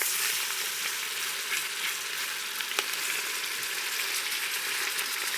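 Pieces of meat sear in a Crux pressure cooker, a steady bright hiss of hot oil sizzling close up, with an occasional faint tap from a utensil.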